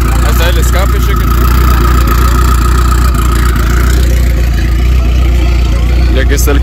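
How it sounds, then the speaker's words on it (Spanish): A car with a modified exhaust idles loudly close by, a thick, steady low rumble that runs throughout while people talk over it. "Ahí está el escape, chequen."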